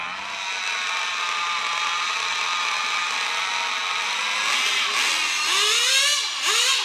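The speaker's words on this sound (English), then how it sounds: "He's running the HPI 15 on this one." An HPI 15 nitro engine runs on an RC model car with a high, buzzing whine that holds steady, then climbs and wavers in pitch near the end as it revs. It is close and fairly loud.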